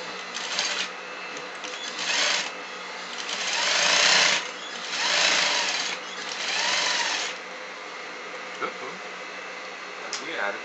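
Sewing machine stitching a double piped besom pocket runs in several short and longer bursts of rapid, loud mechanical whirring, with quieter pauses in between and small clicks near the end.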